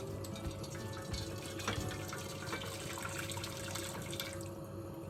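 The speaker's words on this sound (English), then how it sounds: "I'm going to add some water." Water runs steadily from a tap, splashing into a cooking pot with a continuous gurgling rush and a few drips, fairly close.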